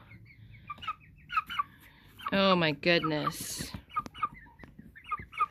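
American Bresse chickens cluck in a short nearby burst in the middle, with someone talking before and after.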